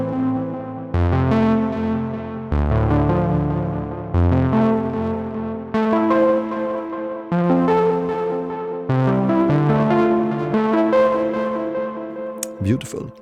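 YUM Audio Ember analog-style synthesizer playing sustained chords and notes through an echo effect, bright harmonic tones with repeating decaying tails and a short burst of sound near the end.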